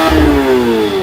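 A Lamborghini Temerario's high-revving V8 screams through a short, loud rev, its pitch sliding steadily over about a second, close and with no voices.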